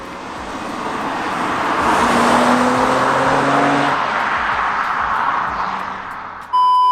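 A rare manual BMW 530i drives along a road, its engine and tyre roar swelling to a steady loud drone from inside the moving car, then easing slightly near the end.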